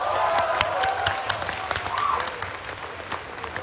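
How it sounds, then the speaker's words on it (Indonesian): An audience at a televised student debate grand final applauds steadily, a dense wash of clapping and crowd noise that fades slightly toward the end, with a little faint talk underneath. "Boleh tepuk tangan lagi"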